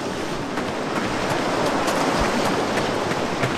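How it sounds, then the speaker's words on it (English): Waterfall in the VR video game Blade and Sorcery, a steady broadband rush of falling water that holds evenly throughout, close and fairly loud with no talk over it. "Oh, is that a waterfall I see before me?"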